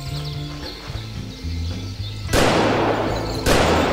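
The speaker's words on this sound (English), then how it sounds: "XM-21 rifle." Two loud, sharp XM-21 rifle shots in a VietDoom Doom mod game, each a burst with a short decay, ringing over steady game music.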